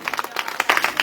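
A church audience claps briefly in a quick burst of hand claps, close and lively, with a voice faintly underneath.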